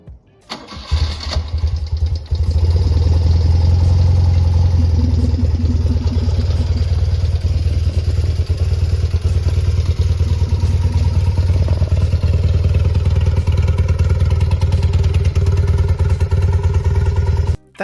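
A classic BMW R65 motorcycle engine cranks, catches and settles into a loud, steady running idle close by, with a throbbing low rumble and mechanical clatter holding until it cuts off at the end.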